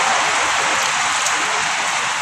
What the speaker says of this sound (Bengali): এত বৃষ্টি হইতেছে বাইরে।